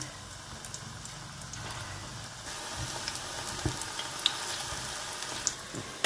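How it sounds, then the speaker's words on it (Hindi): Onion pakoras frying in hot oil for Punjabi kadhi, giving a steady, fairly faint sizzle and bubbling throughout with a few small pops and clinks, no talking. "ते असी प्याज दे पकौड़े बनाने शुरू कर दें जी"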